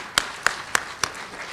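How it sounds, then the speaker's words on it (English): Four sharp, evenly spaced hand claps ring out in a quiet room for a staff member at an integrative oncology gathering, each a single crisp slap with a short decay and nothing between. "And let's give her a round of applause."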